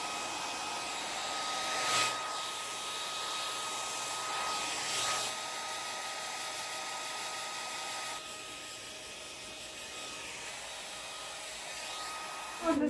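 A hair dryer blows steadily on a peel-off face mask, a continuous close whooshing drone with a slight shift in tone partway through; no speech is heard over it.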